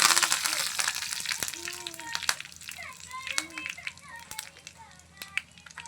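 Curry leaves and dried red chillies, added after mustard seeds and cumin, crackle and spit in hot oil. The sizzle is close, with sharp pops, and voices sound faintly in the background.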